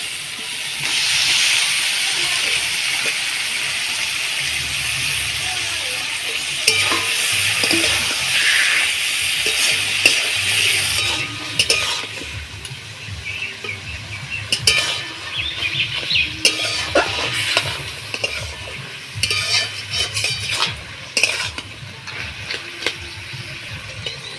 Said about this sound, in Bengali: কচুটা ভালো করে এরকম করে নাড়াচাড়া দিয়ে নেবো